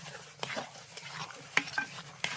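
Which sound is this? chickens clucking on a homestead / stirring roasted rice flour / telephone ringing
stirring roasted rice flour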